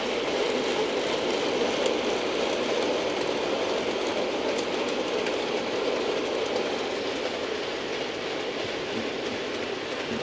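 A model railway rake of clay hood wagons rolls past in a steady, continuous rumble with faint rhythmic clicking on the track, fairly close and without speech.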